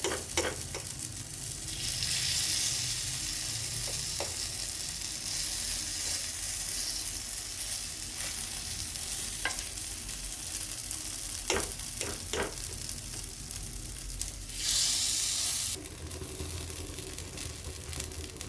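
Green sprouted moong appe batter sizzles in an appe pan, a continuous close frying hiss with a few sharp taps of a spoon against the pan scattered throughout.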